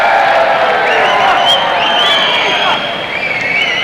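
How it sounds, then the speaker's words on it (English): A crowd at a 1998 NCAA All-Star heavyweight wrestling match roars and cheers loudly and continuously in a large arena, with shrill whistles and whoops rising above the din. "They definitely have the crowd going."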